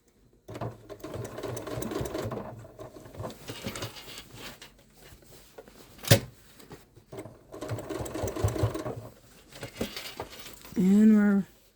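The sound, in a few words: sewing machine top stitching a crossbody bag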